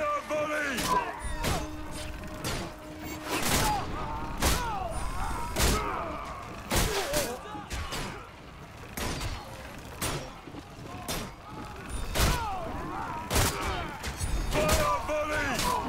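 Roman volley fired on command in Ryse: Son of Rome, a series of sharp thumping impacts and crashes recurring every second or so amid battle noise, with shouted orders in between.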